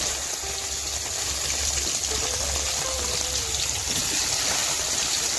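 Okra sizzles in hot mustard oil with five-spice, in oil already used to fry fish, making a steady, close, broadband hiss and crackle throughout with no talking.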